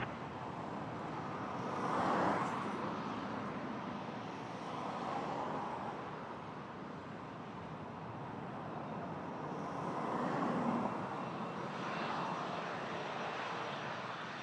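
CRJ 900 airliner at Toronto Pearson airport, its jet engines a broad, steady roar at moderate distance that swells and fades gently over time, with no talk.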